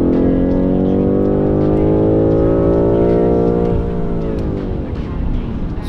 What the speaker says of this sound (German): Ich beschleunige es nochmal von 1500 bis 7000. Und das Ding zieht komplett durch bis Drehzahlende.